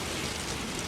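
Stormy rain weather in Microsoft Flight Simulator, heard from a Boeing 787-10 flight, comes through as a dense, steady hiss of rainfall, loud and unbroken across a brief moment without talk.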